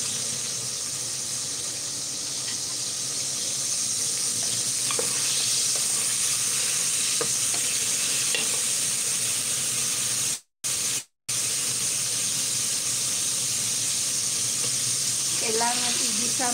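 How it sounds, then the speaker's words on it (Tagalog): Garlic sautéing in a pan for a shrimp dish, giving a steady loud broadband sizzle that runs continuously, with faint scraping and a brief squeal-like rattle near the end, close up and heard alone. "kailangan igisa muna yung bawang."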